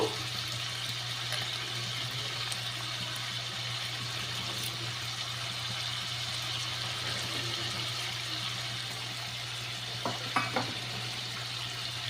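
Prawns lightly frying in a pan, a faint, steady low sizzle with a couple of brief stirring clinks near the end, and no voices.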